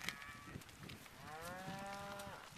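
Tired old cows lowing on a March cattle drive in the Owyhee country, a long drawn moo and a shorter one overlapping against faint outdoor background, moderately distant and without talk.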